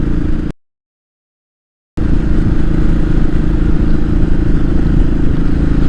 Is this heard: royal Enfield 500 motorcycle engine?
yes